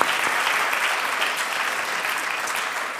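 Audience at the EOES 2023 closing ceremony in Riga, Latvia breaks into dense, loud, steady applause that fills the whole stretch, with no voices over it.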